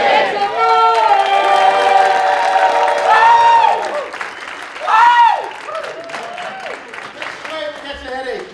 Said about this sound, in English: Then we're going to clap, scream, and shout for like 3 to 5 seconds.